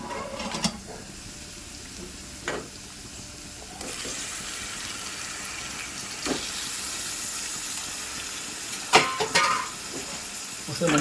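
Goat tripe (boti) sizzles and fries in a pan with a steady hiss, broken by several sharp stirring scrapes and clatters, close and fairly loud.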